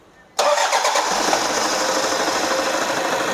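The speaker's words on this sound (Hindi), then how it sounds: "गाड़ी स्टार्ट करो," A Toyota Fortuner engine fires up after an overhaul, catching abruptly with a sharp crank and then settling into a steady, loud, close idle with a busy mechanical clatter.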